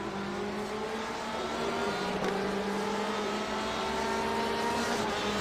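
Race car engine from a racing video game simulating endurance practice at Daytona, a steady sustained drone with a slowly gliding pitch, moderately loud and continuous throughout, no talking.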